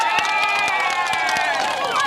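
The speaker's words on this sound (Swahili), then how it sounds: "Hebu mpige hiyo makofi." A crowd at a political rally cheers and claps loudly and continuously, with shouts and whistle-like voices over scattered hand claps.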